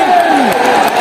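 Brief, loud burst of audience applause and cheering at a stage event for a business speech, dense and close with a crowd roar.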